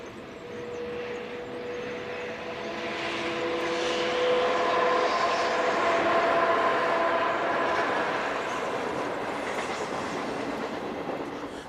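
Loco-hauled passenger train passing at Castiglione Fiorentino, Italy: a broad rushing roar swells and holds with a steady rumble and faint clickety-clack, plus sustained tonal whines, moderately loud and alone without voices.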